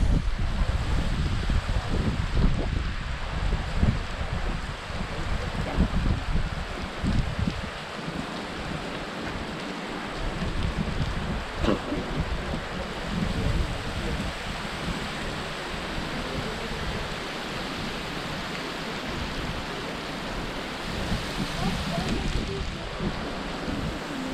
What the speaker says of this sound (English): So you got the waterfall.